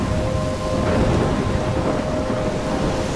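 In the video game Life is Strange, a steady thunderstorm pours heavy rain with a deep rumble of thunder rolling underneath, constant and close, with no talking.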